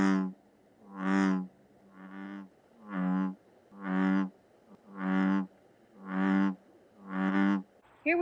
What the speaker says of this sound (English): Bullfrogs are the biggest frog that we have in New Jersey. They make a very loud noise.